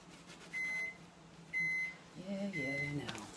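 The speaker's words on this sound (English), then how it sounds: "That's my microwave reminding me that my coffee's heated." Microwave oven beeping after heating coffee in a home kitchen: three evenly spaced high, steady tones, each under a second long, and a person talks over the last one.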